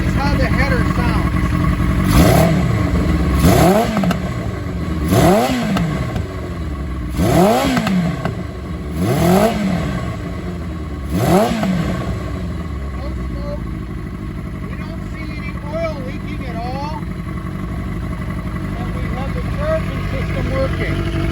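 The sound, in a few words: 1982 Kawasaki KZ550 LTD motorcycle revving, exhaust header sound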